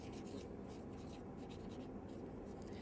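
Pen or marker scratching steadily across paper while axis labels are written on an economics graph, a continuous close rubbing scrawl with no talk.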